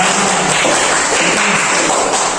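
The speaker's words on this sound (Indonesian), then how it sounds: "tepuk tangan untuk semuanya." A classroom group claps together in a dense, steady wash of applause for an automotive engineering lesson, loud and continuous with no talk over it.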